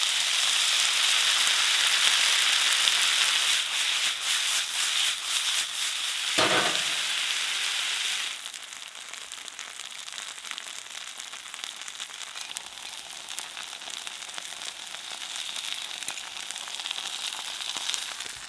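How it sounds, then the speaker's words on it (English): Spaetzle frying in a pan of olive oil and lard gives a steady, close sizzle with a brief louder burst partway through, then a quieter, even crackle for the rest. "We're gonna fry up the Spaetzle."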